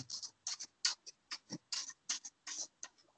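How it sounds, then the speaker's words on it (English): A cat scratching: quick, dry scratching strokes in short irregular bursts, close by and fairly faint, with brief pauses between each scrape. "Sorry, the scratching. I don't know if you hear that."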